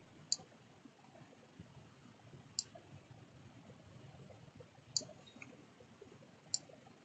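A computer mouse clicks during Photoshop pen-tool work, four quiet, sharp single clicks spaced a couple of seconds apart over a faint, hushed background.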